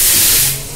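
Train air brakes releasing after an emergency chain pull, a loud close burst of hissing air that holds steady and then eases off toward the end.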